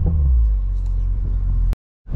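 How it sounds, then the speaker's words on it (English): A 2020 Toyota Supra's engine is revved in sport mode, a loud low rumble that holds for under two seconds before cutting abruptly to silence, then returning faintly. "give it a little bit of a rev"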